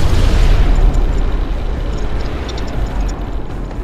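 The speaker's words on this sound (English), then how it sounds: "Chaos defense platform destroyed!" A Chaos defense platform blows apart in the space strategy game Battlefleet Gothic: Armada, a loud, deep explosion that booms at once and then rumbles down into a fading roar, with no speech.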